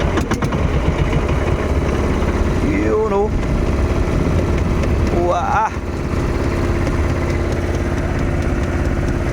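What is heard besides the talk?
boat engine idling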